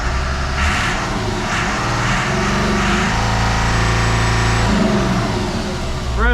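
Perkins 6.354 diesel engine revving up to around 3,400 rpm, a loud, close, continuous mechanical roar that holds high and then dips slightly near the end, with no voices.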